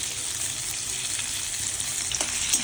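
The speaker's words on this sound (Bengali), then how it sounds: "একটু ভাজা ভাজা করে দেওয়া হচ্ছে" Grated ginger frying in hot oil as a tempering for chana dal, a steady close sizzle with light stirring scrapes and no talk.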